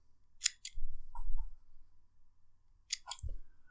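Scissors snip cotton wick trimmed at the edge of a Hellvape Fat Rabbit RTA vape deck, two quick pairs of close, crisp cuts separated by soft handling rustle, with no voices.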